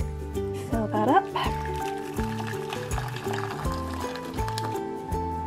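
Boiled water pours from a kettle into a saucepan, a steady liquid filling sound with a rising gurgle, set under background music and a speaking voice.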